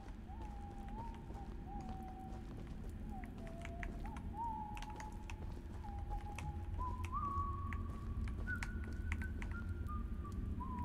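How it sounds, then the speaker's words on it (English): A character in the video game Choo Choo Charles whistles a wandering melodic tune, the clear tone stepping up and down in pitch over a steady low background rumble. "He sounds like me whistling."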